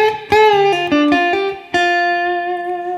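Electric guitar lick played close and loud, a few quick picked notes leading into string bends that slide pitch upward, ending on a long sustained note that rings out and slowly fades, with no voices.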